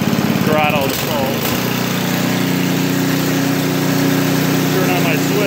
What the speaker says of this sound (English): I'm gonna go ahead and take the choke off and increase the power, throttle the pull.